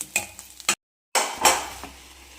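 Roasted coconut tipped into a curry pan, with sharp metallic clinks and scrapes of a spoon against the pan, a short silent gap, then a louder clatter and stirring close by.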